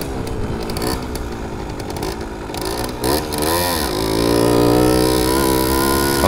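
A Simson S51 moped with a four-speed gearbox runs at high revs, its two-stroke engine droning loud and close, then winding up through a sweeping rise into a sustained high-pitched whine.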